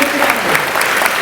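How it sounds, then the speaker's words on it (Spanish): Brief burst of congregational applause during a Sunday church service, many hands clapping in a thick, continuous patter that fills the whole moment. "Yo quiero que usted le dé un aplauso más fuerte al autor de esto"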